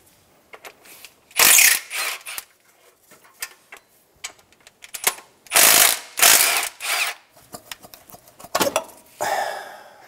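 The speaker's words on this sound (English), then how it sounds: "Remove the two 12 millimeter bolts for the thermostat assembly." A ratchet loosens 12 mm thermostat housing bolts on a 2000-2006 Toyota Tundra 4.7L V8, with several loud close bursts of rapid clicking separated by quieter pauses and small metallic handling sounds.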